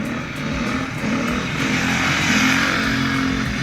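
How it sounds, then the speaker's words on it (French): A four-stroke motorcycle holds a steady, loud engine drone while riding a wheelie, its pitch shifting slightly as the rider changes gear. "J'ai même cru entendre un petit passage de vitesse ici."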